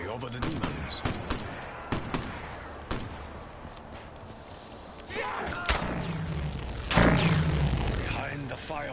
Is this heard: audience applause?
no